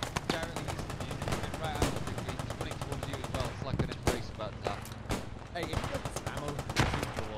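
Dense WW2 battlefield gunfire in the game Post Scriptum: machine guns rattle in long bursts amid scattered single shots and heavier bangs, loud and continuous throughout, with voices faintly underneath.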